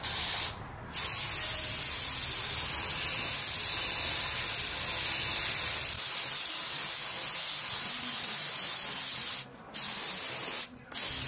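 A spray can lays down a first coat of UV primer in a long, steady close-up hiss that stops briefly three times between bursts.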